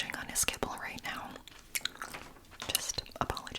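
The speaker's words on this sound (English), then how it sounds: "my other cat that is crunching on his kibble right now" A cat chews dry kibble nearby, producing repeated crunchy bites and moist chewing that run beneath quiet whispering.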